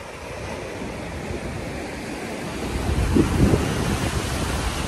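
Loud, continuous roar of strong surf at Playa San Juan beach in Alicante, Spain, with heavy wind buffeting the microphone, the rush swelling stronger toward the end as a big wave crashes.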